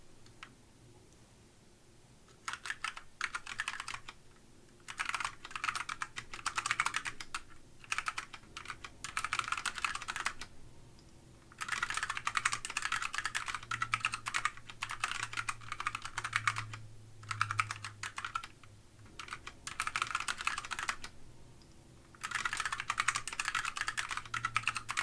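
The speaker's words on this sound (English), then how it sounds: "let me type this out again" Fingers tap steadily on a computer keyboard in close, crisp bursts of keystrokes separated by short pauses, continuing for about 25 seconds with no one talking.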